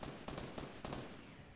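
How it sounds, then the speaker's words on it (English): Gunfire in the game Fortnite, a quick run of about four faint, sharp shots in irregular rhythm, distant and quiet, followed by a thin high tone. "there's the shots fired"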